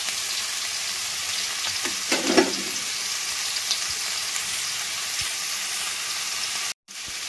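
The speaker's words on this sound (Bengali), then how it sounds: "তো ভালো করে একটু নেড়ে চেড়ে দিলাম।" Vegetable sandwich filling stirred in a hot pan, a steady frying sizzle with a short burst of scraping stir sounds in the middle, heard alone without talk.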